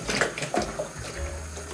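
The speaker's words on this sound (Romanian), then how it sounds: "cel mai simplu e să tragem mațul direct pe robinet și dăm drumul la apă" Tap water gushes from a faucet into a pork intestine casing, a steady close splashing rush with a few gurgling surges, and no one speaks.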